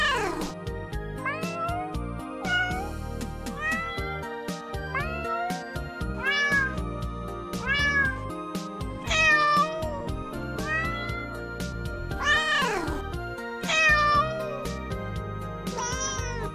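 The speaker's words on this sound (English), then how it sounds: "I turned on my speakers so the cats can hear the cat meowing." Repeated cat meows, some drawn-out and wailing, sounding one after another with brief pauses between, steady and fairly loud with no talking.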